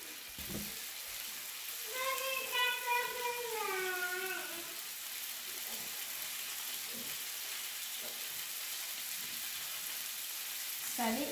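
Spiced chicken cooks in olive oil in a pan, giving a steady, fairly loud sizzle that runs the whole time, with a brief tonal sweep early on and a few soft knocks.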